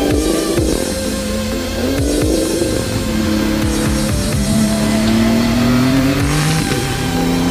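A Renault Sport RS01 race car engine revs hard and loud up close. Its pitch climbs and drops repeatedly through blips and sustained pulls, with a continuous mechanical roar underneath.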